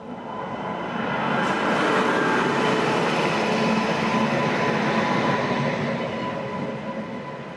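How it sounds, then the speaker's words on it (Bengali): The 22307 Howrah Bikaner Superfast Express stands at platform 2 in Bikaner, Rajasthan, giving off a loud, steady rail rumble and hiss that stays level for the whole stretch, with no voices. "এটা 22307 হাওড়া বিকানের সুপারফাস্ট এক্সপ্রেস।"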